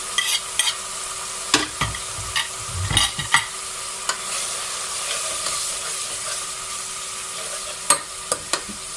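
Ginger garlic paste sizzles in hot oil for an aloo matar pulao, a steady close frying hiss broken by sharp clicks and scrapes of a spoon stirring the pan.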